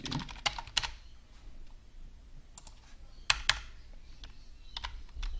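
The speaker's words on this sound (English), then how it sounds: "sorry, about my typing" Clicky computer keyboard typing in short irregular bursts, close to the mic, over a low steady background hum.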